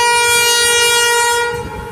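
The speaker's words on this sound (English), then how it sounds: "CEY locos passing platform number 2." CEY-class locomotives passing a station platform in Sydney sound a loud, sustained multi-tone horn, rich and steady throughout, with the rumble of the passing train underneath and the horn easing slightly near the end.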